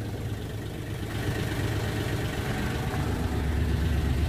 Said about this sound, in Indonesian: Ini tuh mesinnya 3 silinder ya, 999 cc, 72 horsepower.